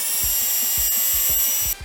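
A power drill with a stirring attachment whirs steadily, mixing dry malt extract into wort inside a plastic fermenter, with rhythmic low sloshing thumps as the paddle churns the liquid; the motor cuts off near the end.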